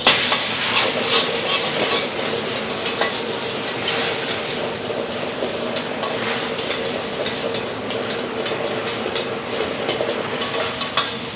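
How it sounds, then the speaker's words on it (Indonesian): Squid and shrimp sizzling loudly in a hot pan during flambé, a dense continuous hiss and crackle with occasional scraping stirs, no talking. "Oke, langsung kita masukin dan kita bakal ngelakuin teknik flambe"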